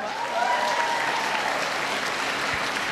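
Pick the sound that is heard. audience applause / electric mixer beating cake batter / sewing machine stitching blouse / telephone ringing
audience applause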